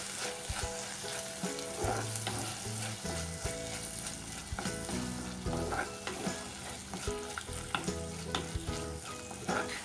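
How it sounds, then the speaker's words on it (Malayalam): Turmeric powder sautéing with crab roast masala in a pan, a steady close sizzle with stirring scrapes running throughout under loud background music, no talk. "ഇനി ഇതിൻ്റെ പച്ചമണം മാറുന്നത് വരെ ഒന്ന് വഴറ്റി കൊടുക്കാം"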